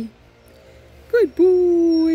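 A dog gives a high, drawn-out whine, with a short whimper just before it, close to the mic and loud, while a person speaks briefly over it.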